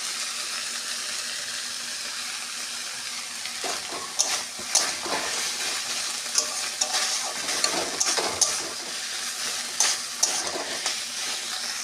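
Mashed pumpkin sizzling and frying in a pan as fried garlic is added and stirred in, a soft constant sizzle with sharp scraping spatula strokes at close range.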